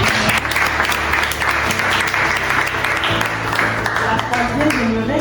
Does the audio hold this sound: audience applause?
yes